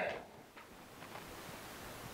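Electronic shot timer gives one short, sharp beep at the very end, right after a faint click, with near silence before it.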